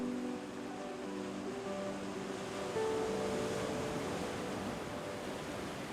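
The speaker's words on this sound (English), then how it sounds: "wave crashing against the shore" Ocean surf breaks and washes steadily against a shore where bioluminescent plankton light the water, giving a continuous broad wash of surf with no voices.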